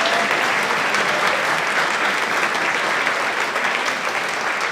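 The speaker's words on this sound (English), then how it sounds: "Give all the winners so far a round of applause." Sustained applause from an audience at a county council awards ceremony honouring winners, steady dense clapping filling the hall without a break.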